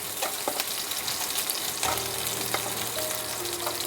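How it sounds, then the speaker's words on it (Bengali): Garlic fries lightly in a pan for a garlic prawn dish, giving a continuous close sizzle with a few sharp utensil clicks and scrapes and no talk. "রসুনগুলোকে হালকা করে ভেজে নেব, একটু হালকা ভেজে নেব।"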